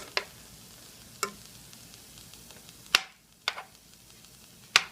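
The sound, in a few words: butter melting and being stirred in a skillet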